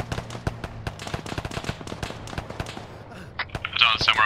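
Rapid sharp gunshots crackle through the first three seconds in Arma 3, many reports close together with a few louder single cracks, then fade under a brighter burst of noise near the end; faint talk runs beneath.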